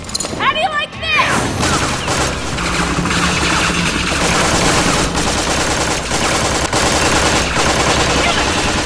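Automatic gunfire bursts in the video game Tales from the Borderlands, loud and sustained amid a dense game soundscape of music and effects, with a voice calling out near the start.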